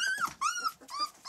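A puppy growls and yips in short, close, high-pitched bursts, rising and falling across three quick fits.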